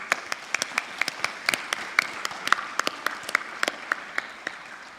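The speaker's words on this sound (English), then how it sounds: "So big round of applause to all the Prims." At the closing ceremony of the Orange Forum 2025, a modest audience claps in applause, sharp individual hand claps coming in a loose, uneven patter rather than a full roar, moderately near.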